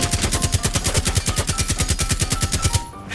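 Rapid automatic gunfire in Rainbow Six Siege X, an evenly spaced burst of about twenty-five close, loud shots that stops just before the end.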